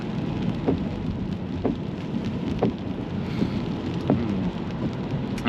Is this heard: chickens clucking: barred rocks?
no